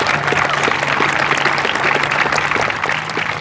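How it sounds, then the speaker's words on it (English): A crowd at a high school graduation ceremony claps steadily throughout, dense and continuous applause filling the room without pause. "They deserve a round of applause."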